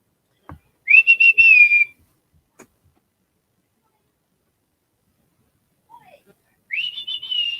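A dog whistle blown twice in short, rising shrill bursts, fairly close and loud, with quiet pauses and a faint tick between them in an otherwise silent room.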